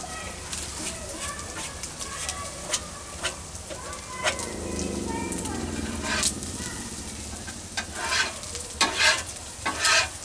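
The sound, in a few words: onions and corn frying in a pan while camping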